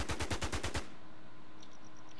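A rapid burst of about seven automatic gunshots rings out in The War Z video game, then gives way to a low, steady hum.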